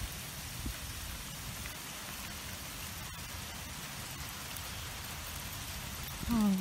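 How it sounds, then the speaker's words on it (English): Hail pelting down steadily in Lake Elsinore, a dense, constant patter of ice hitting surfaces, even and close throughout with a faint engine hum underneath. "No, it's hailing. This is hail."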